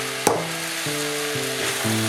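Butternut squash and sweet potato sizzle in olive oil in a pan, stirred once with a sharp scrape near the start, then a steady close frying hiss with a low hum running beneath.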